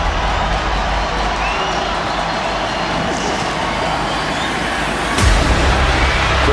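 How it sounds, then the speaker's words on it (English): A home crowd at a 2022 NFL football stadium roars in a steady, dense wash of cheering that swells with a sharp thump and louder burst near the end. "At home, this crowd's getting into this ballgame"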